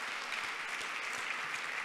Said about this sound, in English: That is worth an applause.